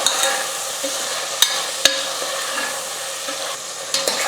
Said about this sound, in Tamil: உப்பு சேர்த்ததுக்கப்புறம் இன்னும் ஒரு நிமிஷத்துக்கு வந்து நல்லா வதங்கட்டும்